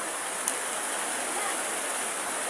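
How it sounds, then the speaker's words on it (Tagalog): Steady rain falls in an even, soft hiss at moderate distance, with a single brief tap near the start and no other sounds. "Umuulan kasi dito sa amin."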